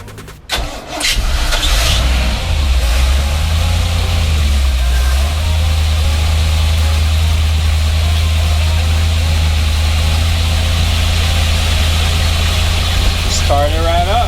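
A large starboard boat engine cranks and catches after a brief starter whir, then settles into a steady, loud low rumble of idling; a voice speaks briefly.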